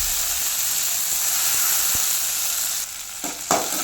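Dried red chillies, curry leaves and a handful of coriander frying in hot oil in a home kitchen, a loud, steady sizzle with a few stirring clinks near the end.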